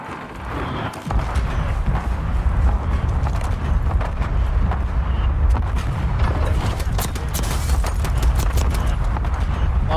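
Gunfire in a video game: dense, loud, rapid bursts and cracks that crowd together continuously for about nine seconds with a rumbling low undertone, no voices.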